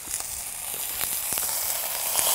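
Lamb fat sizzles and renders in a kazan, a steady dense crackle and hiss with scattered pops, close and continuous.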